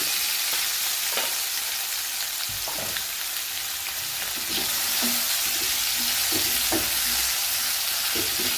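Cooked pumpkin sautéing in ghee for a sweet dish gives a steady, close sizzle, broken by occasional scraping strokes of a spoon stirring through the pan.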